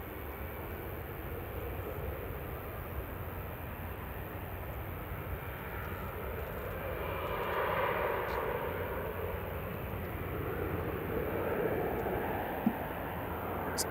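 An airplane takes off at Manchester Airport, its engine roar a broad, steady rumble that swells gently in the middle and stays fairly distant throughout, with no talk over it.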